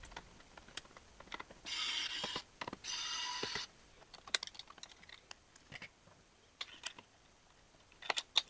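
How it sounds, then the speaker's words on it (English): A screwdriver works on the lower front panel of a Toshiba Tecra 750CDT laptop, giving faint, close clicks and small scrapes with two short bursts of buzzing whir and scattered ticks, with no talk. "Simply unscrew the lower front panel and remove the communication module."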